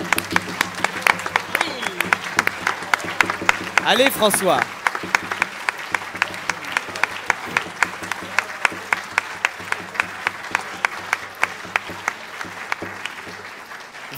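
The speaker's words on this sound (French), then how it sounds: "On peut tous l'applaudir." Audience applause at a stage show: dense, steady clapping from a crowd for about fourteen seconds, with a voice calling out briefly partway through.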